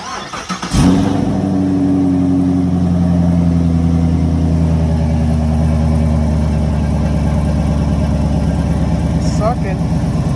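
A Chevrolet Camaro 2SS V8 with a freshly installed cold air intake cranks and fires up just under a second in, flaring briefly before settling into a loud, steady, rumbling idle close by.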